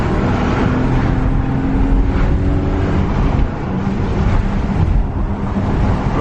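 BMW E36 323ti Compact with 16-inch rims driven hard through corners on a rough, pothole-strewn road, a steady loud engine drone with road and wind roar throughout, no talking.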